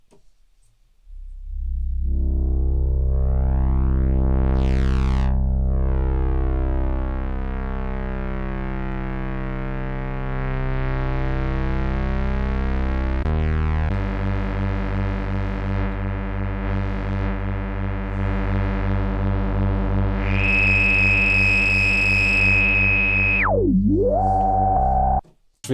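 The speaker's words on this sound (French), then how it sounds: "un bouton de distorsion qui va permettre de venir rajouter les fréquences basses qui se sont perdues quand on a ajouté de la résonance" An Arturia PolyBrute synthesizer plays a sustained, buzzing tone with heavy resonance and distortion, its filter sweeping and the pitch shifting, then jumping to a shrill high note that dives sharply near the end. It is loud and steady throughout.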